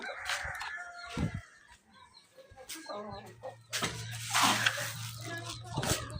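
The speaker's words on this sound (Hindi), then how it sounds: "ये इतना बहुत है, 2 मुर्गियाँ हैं अंदर।" Chickens in a coop cluck and call in short, close bursts, with a rooster-like crow partway through, while a person talks at times.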